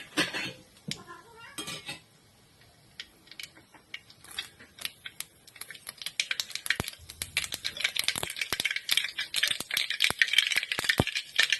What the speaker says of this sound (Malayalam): കടുക് നന്നായിട്ടൊന്ന് പൊട്ടിക്കോട്ടെ.